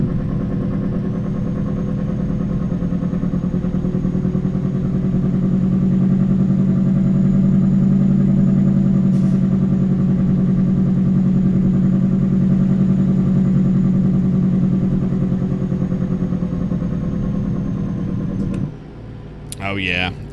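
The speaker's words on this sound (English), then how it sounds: "Get to use that Jake brake on down the hill" A Peterbilt 389 truck in American Truck Simulator runs its Jake brake on a steady downhill grade, giving a loud, sustained, even engine rumble that holds for most of the stretch before cutting off near the end.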